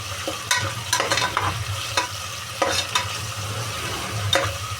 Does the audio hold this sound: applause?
no